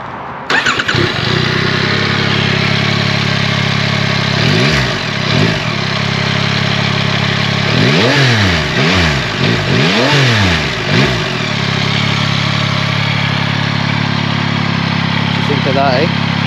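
A Yamaha YZF-R9 sport motorcycle engine cranks and catches, settles into a steady idle, then gives several sharp revving blips in quick succession, close and loud, before dropping back to idle.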